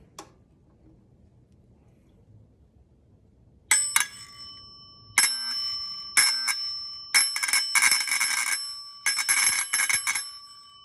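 An electromagnetic bell's arm strikes the bell in several sharp bursts of rapid ringing with pauses between them, loud and close after a few quiet seconds.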